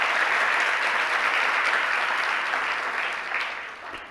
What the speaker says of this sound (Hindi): आप भी ताली बजा करके भक्ति तो करते हैं।